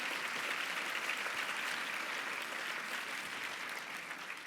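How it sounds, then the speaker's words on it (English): Applause at an awards gala, a large audience clapping steadily, fairly distant and even, gradually tapering off near the end. "So a big round of applause to everyone for making this a great night."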